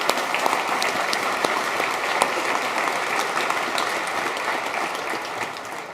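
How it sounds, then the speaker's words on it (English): A conference audience at Autodesk University London 2019 claps for the event sponsors in a steady, dense round of applause that holds evenly for about six seconds with no voices over it. "a round of applause for the sponsors that helped bring the event to you"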